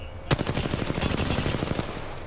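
Rapid automatic gunfire in the Apex Legends video game, a loud sharp burst opening a dense stream of evenly spaced shots that runs about a second and a half, then tails off into background game noise.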